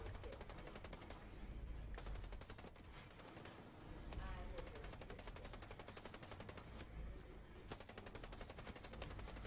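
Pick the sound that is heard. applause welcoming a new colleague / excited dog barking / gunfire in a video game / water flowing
gunfire in a video game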